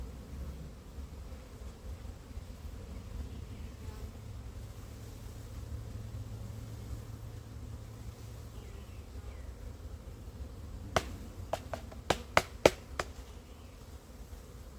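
Packaged honeybees hum in a soft, continuous buzz close by. A quick run of sharp clicks or taps cuts in near the end, and no one speaks.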